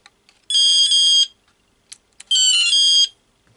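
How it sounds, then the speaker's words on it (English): An ATT fishing bite alarm sounds two loud, high electronic tones, each lasting under a second, separated by a short pause with faint clicks in a quiet setting. "on your bite alarm. So quite adjustable, tone up and down as well."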